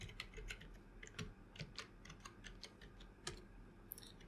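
Quiet, close keystrokes on a computer keyboard tap out a password in an uneven run of light clicks over a soft background hum.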